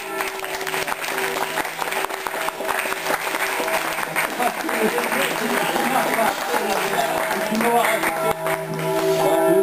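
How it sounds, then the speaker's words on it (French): Applause at a town hall ceremony honouring a long-serving municipal employee with a communal and departmental medal, steady clapping that swells toward the end with some voices mixed in. "je pense qu'on peut l'applaudir"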